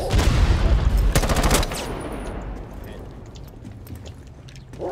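Rapid automatic gunfire in Rainbow Six Siege, a loud dense burst of shots over the first couple of seconds, then sparser scattered shots with players talking over the action.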